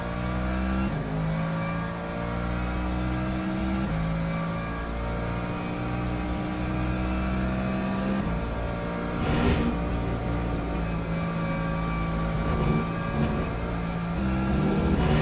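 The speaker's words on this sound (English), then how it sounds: "Especially when I turn on the engine sounds" Race car engine in the sim racing game Le Mans Ultimate, a loud steady drone with rising and falling revs and gear changes, continuous throughout with no talking.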